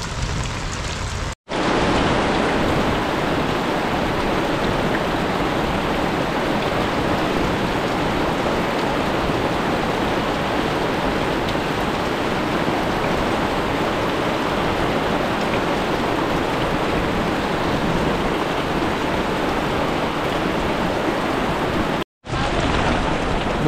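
Heavy rain pours down steadily and loud, a dense continuous hiss of drops on surfaces with no voices, briefly cut off near the start and end.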